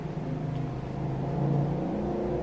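A car engine outside drones loudly and steadily, a continuous low hum with a slight rise in revving partway through and no talk over it.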